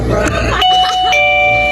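An electronic doorbell chime sounds twice in steady tones, with people talking over it in a busy room.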